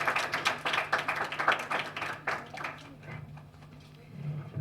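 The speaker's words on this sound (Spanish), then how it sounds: "Un aplauso para nuestro querido profe que va a moderar." Audience applause in a university undergraduate literature colloquium welcoming the panel moderator, a run of moderately loud claps for about three seconds that fades out into low room noise and murmur.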